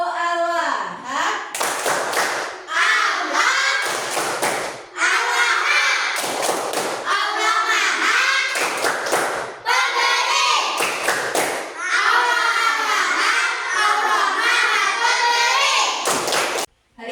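Children chant together in rhythm, punctuated by bursts of loud group hand clapping in a steady pattern, close and lively.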